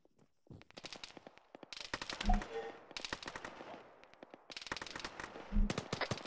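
Bursts of automatic gunfire crackle from a bunker compound in a military video game, coming in several rapid volleys with short pauses between them and a couple of heavier booms.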